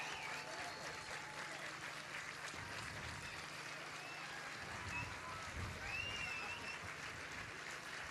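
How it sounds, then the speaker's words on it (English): Sustained applause fills a large outdoor square at an International Yoga Day celebration in Amsterdam, a steady wash of clapping that sounds distant and soft, with murmuring voices mixed in. "he deserves a louder applause and a standing ovation"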